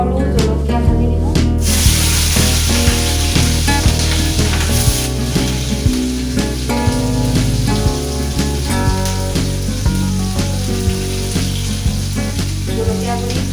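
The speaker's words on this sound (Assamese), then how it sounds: "তাৰপাছত পিঁয়াজ," Onion, garlic and green chilli fry in a pan of oil for an Assamese okra dish, giving a steady close sizzle with stirring scrapes throughout, mixed with background music.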